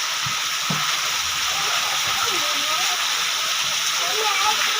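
Heavy rain pouring down in a storm, a dense steady hiss and splash close up, with a voice talking over it now and then.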